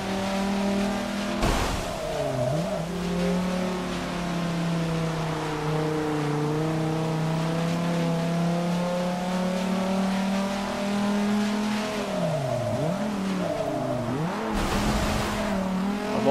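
A Viper GTS race car in the rain in Forza 6, its engine droning loudly and steadily up and down through the gears, with sharper revs and downshifts around corners and a brief whoosh near the end.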